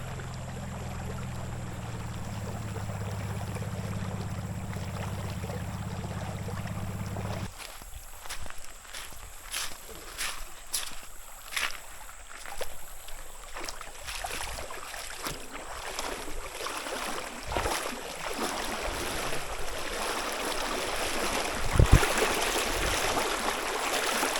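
Shallow, fast-flowing river water on an Ozark trail hike rushes steadily for several seconds. Scattered footsteps and splashy knocks follow over a quieter wash of water.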